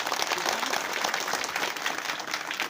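Applause welcoming the sarpanch and his team at a village panchayat function in Dhanti ward, Summan, with dense, steady clapping from a gathered crowd filling the clip at moderate loudness.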